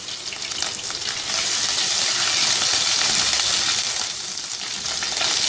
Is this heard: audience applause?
no